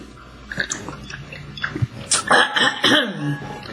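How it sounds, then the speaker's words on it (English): A person clears their throat several times in rough, guttural bursts, close up, with some breathy coughing and no speech. "Trying to clear my throat."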